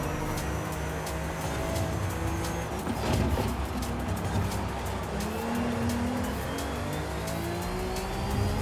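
A BMW SUV fitted with an oversized rear wing races in the video game Forza Horizon 5, its engine droning steadily with tire squeal and skidding rising over the run, loud and continuous with no talking.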